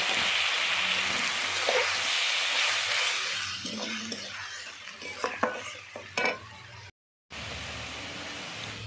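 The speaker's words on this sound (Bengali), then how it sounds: "এবারে বেটে রাখা মশলাটা দিয়ে দিচ্ছি।" Ground spice paste hits hot oil in a pan for a Bengali bhetki fish and cauliflower curry, giving a loud steady sizzle under stirring and a few clinks of a spoon against the pan, broken by a brief gap near the end.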